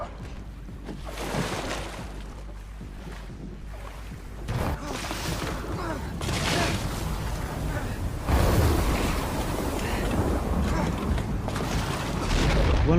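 Storm waves at sea pounding a small boat that is being wrecked, with loud broadband surf crashes and creaking surging repeatedly, swelling heavier toward the end, under a dramatic soundtrack-like wash.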